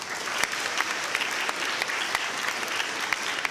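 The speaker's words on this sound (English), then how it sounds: "Please give our freshman class a round of applause." A high school freshman class receives a round of applause at an assembly, steady dense clapping from a large crowd, close and sustained throughout with sharper individual claps popping out.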